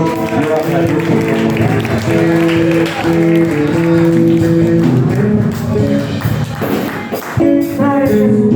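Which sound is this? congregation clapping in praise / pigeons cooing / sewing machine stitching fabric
congregation clapping in praise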